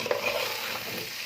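White rice being stirred and sautéed with salt and black pepper in a pan, giving a steady close sizzling hiss with light scraping, continuous and alone.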